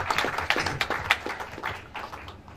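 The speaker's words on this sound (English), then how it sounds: "massive round of applause for him just having a little baby boy" Crowd at an amateur fight club boxing event clapping in a dense, irregular burst of many hands, fairly close and steady before thinning slightly toward the end.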